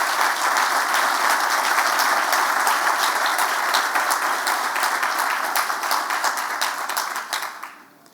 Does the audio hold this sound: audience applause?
yes